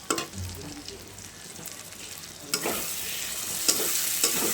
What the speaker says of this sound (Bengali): তো দিয়ে দিচ্ছি কাঁচা লঙ্কা গোটা।